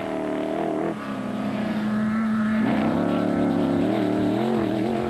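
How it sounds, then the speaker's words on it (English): The blue Silwald Transport Zarko rally car in the 2007 Toyota Dealer 400 cross-country rally roars steadily past, a loud continuous engine drone whose pitch shifts and climbs as it goes by, with no talk. "The blue Silwald Transport Zarko came flying by next."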